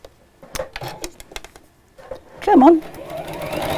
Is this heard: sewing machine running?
yes